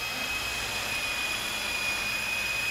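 A 400-class double-rotor Agusta RC helicopter hovering close by, a steady high-pitched electric whine with a constant tonal hum and a smooth whirring drone, no talking.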